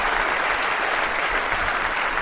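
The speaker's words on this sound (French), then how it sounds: "Applaudissements." Dense, steady applause from a large audience after a talk on new bionics, an even wash of clapping with no voices.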